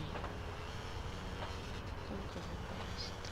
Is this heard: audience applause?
no